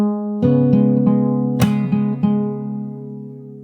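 Close, solo fingerstyle acoustic guitar opens a song, a low held note under plucked chords, with one sharp percussive slap on the strings midway before the notes ring out and fade.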